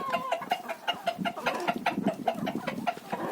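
Farmyard chickens cluck in a rural Ukrainian village coop at feeding time, a busy run of short, repeated clucks close by and at moderate loudness.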